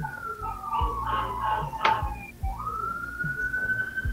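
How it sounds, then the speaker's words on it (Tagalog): A police siren wails steadily in the distance during a typhoon, its pitch sweeping and holding, while faint thumps and traffic noise sit underneath. "Narinig mo yan, wangwang?"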